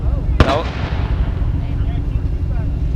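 A truck backfires once at a dragway street night, a single sharp loud bang followed by a rumbling engine and crowd noise, with voices talking nearby.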